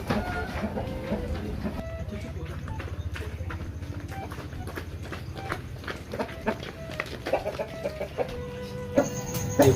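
A large chicken clucks in irregular bursts amid a busy, cluttered background of other sounds and knocks, moderately close.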